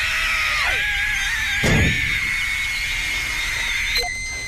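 A high, wavering cartoon shriek from the Shriekamaker gadget sounds in space aboard the Magic School Bus, with gliding squeals over a steady electronic whine, a brief loud burst midway and a short beep near the end.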